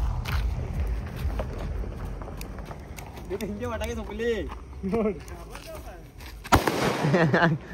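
A firecracker bomb goes off outdoors during Diwali celebrations. One sharp, loud bang bursts out near the end, amid continuous excited shouting and chatter from several people.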